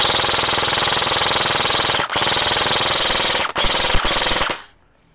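A G&G RK74T airsoft rifle fires on full auto in long, rapid buzzing bursts, loud and close, with two short pauses before the final burst cuts off into silence.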